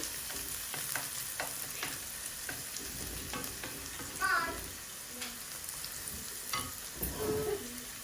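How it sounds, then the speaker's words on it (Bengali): Whole garlic cloves frying in a pan in a home kitchen, a steady soft sizzle with occasional stirring clatter and scraping, fairly quiet throughout. "আমি মিডিয়াম সাইজের আস্তা একটা রসুন দিলাইছি"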